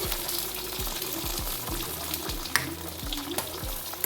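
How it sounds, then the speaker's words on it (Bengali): Fish curry gravy with cumin and mustard paste bubbling and sizzling in a pan on the stove, a steady close boil with faint scraping and clinks, no talk. "ভালো করে ঝোলটা ফুটে যাক"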